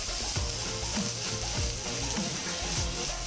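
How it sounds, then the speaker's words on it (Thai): Pork fried rice with oyster sauce stir-fried in a pan, with a loud, steady sizzle throughout and repeated scraping from stirring, close up with no voices. "แล้วก็ผัดให้เข้ากันนะครับ"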